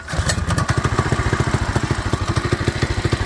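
A Predator 212 engine fitted to a John Deere 110 garden tractor runs steadily, its loud rhythmic chugging exhaust pulsing evenly and close by throughout, with no talking.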